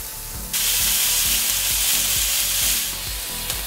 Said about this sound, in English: You wanna hear those chickens sizzle.